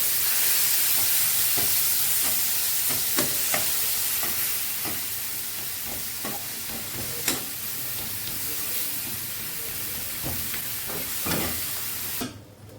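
Rohu fish curry is stir-fried with a splash of water, giving a steady sizzling hiss broken by regular scrapes and taps of a spatula against the pan, close up and uninterrupted by voices until it cuts off at the end.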